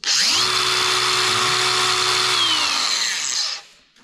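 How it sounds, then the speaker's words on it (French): An angle grinder fitted with a perforated flap disc gently grinds off burrs. It spins up to a loud, steady high whine lasting about three and a half seconds, then winds down. "j'ai meulé très gentiment les bavures avec un disque à lamelles ajouré"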